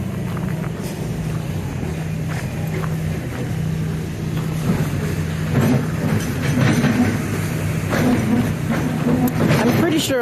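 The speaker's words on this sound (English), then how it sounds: "Sure, I'll hear the train coming." A train passes through downtown Denver, Colorado, a rumbling hum with rhythmic clatter and a tonal drone that grows slightly louder, heard beneath street ambience and occasional voices.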